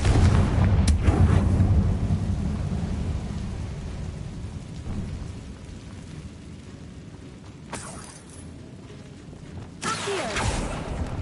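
A Confringo blasting curse in Hogwarts Legacy erupts as a loud, rumbling explosion, with further crackling bursts and a heavy impact returning near the end over a continuous low roar.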